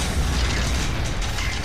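A fuel tanker truck exploding: a sustained, loud broadband roar and rumble with heavy low-end boom, continuous over the short span with no voices.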